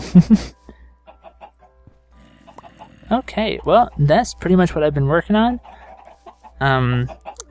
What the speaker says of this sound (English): there's my really impromptu chicken farm, doesn't do much